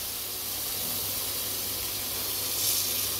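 Cooking oil sizzles in a hot pot with onion, a steady close hiss with no pauses, slightly rising near the end, and no talking.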